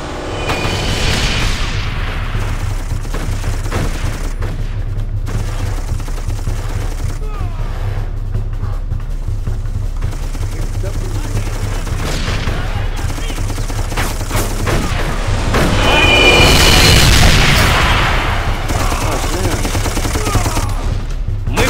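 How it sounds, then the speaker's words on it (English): Gunfire and explosions from a battle in the Darkest of Days video game as a railway trestle bridge is blown up, with a continuous loud rumble of fusillade and booms that swells into a heavier blast near the end. "Let's blow that trestle and put on a fireworks show."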